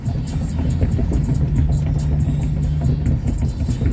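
A car speeds along a road, heard as a loud, steady engine drone and tire rumble from a passing dashcam perspective, with no voices over it.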